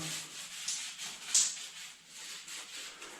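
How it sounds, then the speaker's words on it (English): Mosaic tiles are rubbed with an abrasive pad during cleaning, making a soft scratchy scrubbing of short strokes with a couple of brief louder swipes, fairly quiet and without speech. "After you have rubbed it with that abrasive surface"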